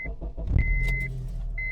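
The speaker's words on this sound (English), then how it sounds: "let's start the car." A car engine starting with a scan tool plugged in: a steady high electronic beep, then the starter cranks and the engine catches into a low, continuous idle rumble close by, with the beep returning near the end.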